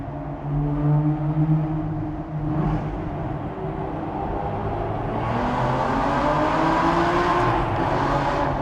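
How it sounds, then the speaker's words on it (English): A 15-year-old Aston Martin Vantage with a naturally aspirated V12 echoes through a tunnel, climbing in a rising, layered howl with shifting tonal bands as it revs and accelerates. "A naturally aspirated V12 Symphony."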